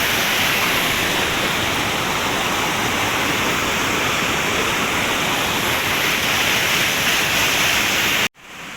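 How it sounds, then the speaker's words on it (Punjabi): A mountain river near Palampur rushes past in a dense, unbroken roar heard up close, steady throughout until it cuts off abruptly just before the end. "ਦੇਖੋ ਆਉਂਦਾ ਪਾਣੀ"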